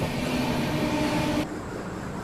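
The Ranchi Rajdhani Express rolls slowly through a station, a steady broad rumble heard from on board that drops noticeably quieter partway through, with no voices.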